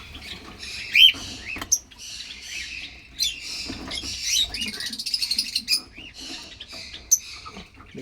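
Pet birds in a breeding setup chirp and squawk in quick bursts close by, with busy high calls and scratchy rustling, no voices.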